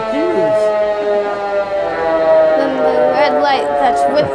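A federal siren on a restored WWII fire truck winds up and wails in a long, loud rising and falling tone close by, while people talk and chatter faintly underneath.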